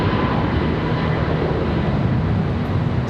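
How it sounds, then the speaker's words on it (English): An Airbus A321 airliner departs Charlotte Douglas International Airport, its engines producing a loud, continuous broadband roar that holds steady throughout with no talking. "So we got our next departure, A321"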